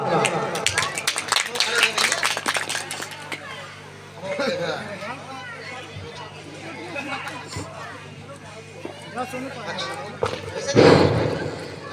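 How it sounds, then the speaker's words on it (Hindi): A crowd at a folk birha singing event claps in welcome with a quick burst of claps near the start. Murmuring chatter and talking voices continue afterward, with a thud near the end. "एक बार आप लोग भी तालियों से स्वागत करें"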